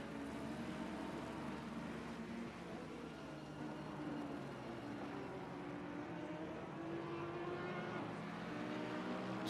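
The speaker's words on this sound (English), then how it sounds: "You can see all the cars buzzing around different parts of the track." Race cars in Assetto Corsa Competizione circulate the Hungaroring, a steady blend of engine drones rising and falling as several cars pass at different distances, continuous throughout with no talk.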